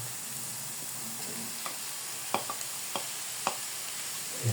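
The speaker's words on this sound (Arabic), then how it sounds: "نشحرو عاوتاني مع الكفتة مع البصلة." Kefta and onion sauté together in a pan, a quiet continuous sizzle broken by several sharp clicks and knocks of a utensil against the pan.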